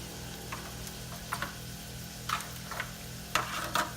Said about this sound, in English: I'm gonna go ahead and flip this again and put some barbecue sauce on the other side.